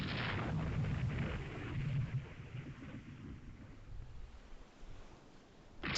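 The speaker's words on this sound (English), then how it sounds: "So my guys are shooting." Distant naval artillery from warships in the Rule the Waves 3 naval strategy game, low muffled booms and rumbling that swell and fade over several seconds, fairly faint.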